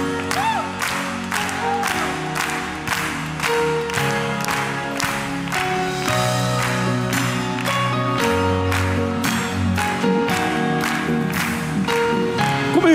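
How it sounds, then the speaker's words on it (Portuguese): Worshippers at a Catholic priest's show and CD launch clap along in steady rhythm to loud live music, the even beat of many hands running through the whole passage. "Nas palmas."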